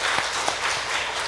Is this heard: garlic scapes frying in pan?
no